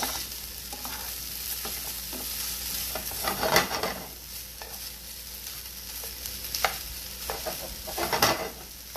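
Kielbasa sausage browning in a frying pan, with a steady close sizzle and occasional louder bursts as the pieces are stirred and turned, no voices.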